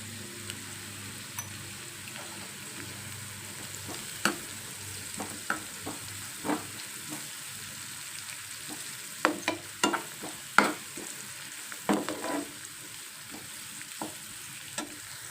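Mushrooms fry in a pan with turmeric for mushroom curry, a quiet, even sizzle broken by repeated sharp spatula scrapes and taps against the pan.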